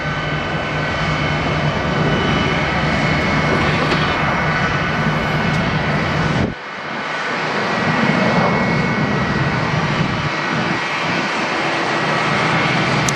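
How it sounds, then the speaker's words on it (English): A Boeing 717 regional jet at Atlanta airport roars loudly and steadily, the engine noise dipping briefly midway before surging back to a sustained whine and rumble, with no talking. "Another Boeing regional jet, 717 in other words."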